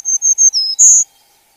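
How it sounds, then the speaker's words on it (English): Black-throated green warbler singing a clear high song of four buzzy, evenly spaced notes and a brighter final note, close and alone with no background noise. "the black-throated green warbler."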